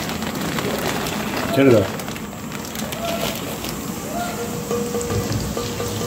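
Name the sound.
frying cashews and raisins for pulao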